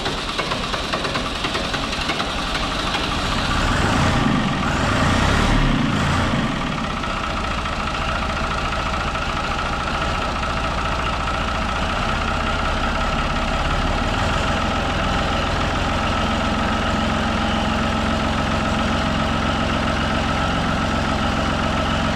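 Farm tractor engine running after a hard start, a loud, steady close idle with a heavy low rumble, briefly surging louder early on before settling back.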